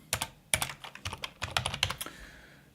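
Fingers tap out a short burst of quick, uneven keystrokes on a computer keyboard, crisp clicks close by, trailing off into quiet after about two seconds.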